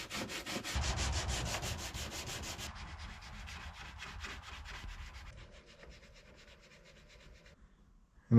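Steady abrasive sanding works over Bondo and primer on a Chevy 2500HD truck hood, a continuous rasping scrub that changes texture partway through and ends with a brief knock. No one speaks.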